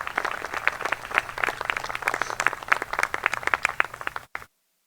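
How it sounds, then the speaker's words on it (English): An outdoor crowd at a university engineering building groundbreaking ceremony breaks into steady, dense applause of many hands clapping for about four seconds, then it cuts off abruptly into silence. "Let's give them all a round of applause."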